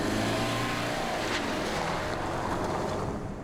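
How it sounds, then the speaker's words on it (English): A Land Rover on the 1997 Camel Trophy in Mongolia drives off, its engine a steady, fairly loud rumble mixed with wind and rolling noise that eases slightly toward the end. "The Land Rover vehicles are not only ideal for rescue missions, they cover the terrain quickly"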